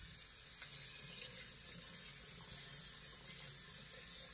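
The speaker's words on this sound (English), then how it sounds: "Let me wash this brush out." A large 26 mm shaving brush knot rinsed under a running tap, giving a steady, close hiss of water streaming into a sink for the whole stretch, with no talk over it.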